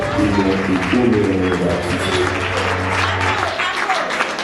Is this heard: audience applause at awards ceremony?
yes